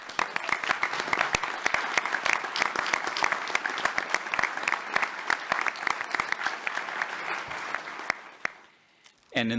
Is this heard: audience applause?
yes